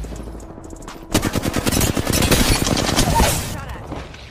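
Rapid automatic gunfire from the video game Apex Legends bursts out loud and close after a short quiet lead-in, with dense repeated shots that fade near the end.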